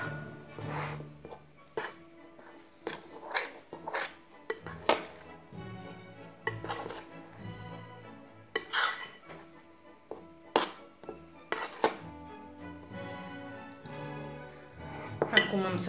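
A spoon or utensil clinks and scrapes against a bowl while flour, sugar, salt and dry yeast are stirred together for homemade bread, with irregular close knocks and a voice talking at times.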